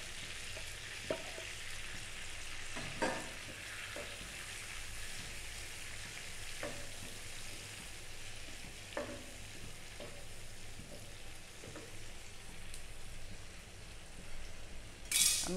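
Moringa leaves and egg frying in a pan, a steady continuous sizzle with occasional stirring scrapes and light clinks against the pan, ending in a brief louder clatter.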